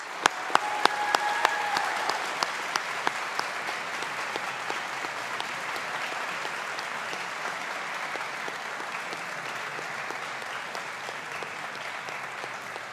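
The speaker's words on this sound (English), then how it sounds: "let's take a moment, students and staff, to applaud the friends and family who've supported the students to get here today" Applause at a university Faculty of Science graduation ceremony for friends and family, opening with a few sharp distinct claps that swell into a sustained, even wash of a large hall audience clapping.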